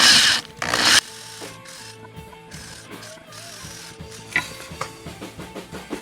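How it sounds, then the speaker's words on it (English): A drill boring a 5/16 inch hole in a CNC-carved wooden headstock guitar hanger: a short loud burst opens, then a steady mechanical whir with faint ratcheting clicks and small bumps throughout. "The last hole I need to drill is of like a 5/16 to accept where"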